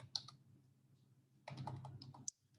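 Short bursts of typing on a computer keyboard as a web address is entered, a couple of quick key clicks, a pause, then a brisk run of keystrokes ending in a sharper tap, close and quiet.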